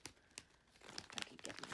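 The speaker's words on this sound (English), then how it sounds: "These are the Ladies Clear plastic bags." Clear plastic bags are handled up close, giving faint crinkling and rustling with sharp little crackles that grow busier toward the end, without voices.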